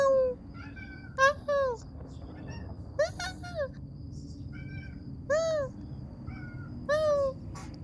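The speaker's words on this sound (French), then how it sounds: "Oui, je me tape une discussion avec mon chat," A pet cat meows repeatedly in short rising and falling calls, some close together, over a steady low background hum.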